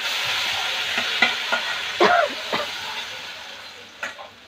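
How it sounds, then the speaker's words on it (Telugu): Dal stirred into a kadai of frying tempering: a steady hiss and sizzle of hot oil with scraping spoon strokes and clinks, close up and gradually quieting. "కొంచెం పప్పు తీసుకొని ఆ బాండీలో వేసుకొని తిప్పుకొని వేసుకోవాలి"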